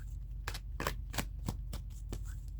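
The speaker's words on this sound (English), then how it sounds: "Give it a good shuffle." Tarot cards being shuffled by hand at close range: a quiet series of about eight sharp riffling snaps at irregular intervals over a low background hum, with no talking.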